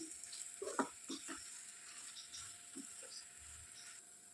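Samosa filling frying in a pan on medium flame, a soft sizzle with scattered scraping clinks from the stirring spoon, faint and close.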